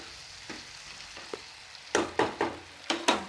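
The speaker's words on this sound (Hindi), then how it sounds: "अब हम अपनी टमाटो केचप डालेंगे और मिक्स कर देंगे अच्छी तरह से।" Chilli potato being stirred with tomato ketchup in a pan: a soft sizzle runs underneath, then from midway a series of sharp spoon scrapes and clatters arrives in quick bursts, close and fairly loud, with no talking.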